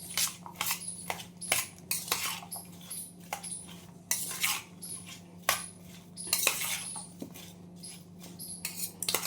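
Green turmeric, ginger and chili pickle being mixed with a spoon in a steel bowl: repeated close scraping and clinking of metal utensil against the container in uneven strokes, with no talk.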